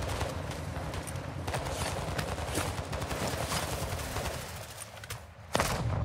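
Rapid bursts of gunfire in Call of Duty: Modern Warfare II DMZ crackle over a busy background of footsteps and movement, with a louder shot near the end.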